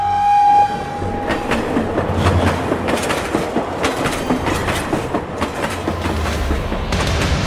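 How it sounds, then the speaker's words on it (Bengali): A long-distance train leaves a station at speed, wheels clacking rhythmically over the rails after a brief horn blast at the start, loud and close. "দ্রুত গতিতে স্টেশন ছেড়ে বেরিয়ে গেল দূরপাল্লার ট্রেনটা"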